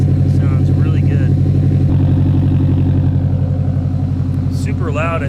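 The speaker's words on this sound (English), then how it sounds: "And I love the sound of the exhaust." Loud, close idle from a turbocharged Nissan S14 Silvia fitted with a Greddy manifold and bigger turbo, a steady throbbing exhaust burble running continuously with a faint voice talking over it.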